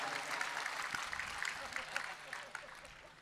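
An audience claps together in a broad, steady wash of applause at a Gujarati folk talk event, continuous from start to finish.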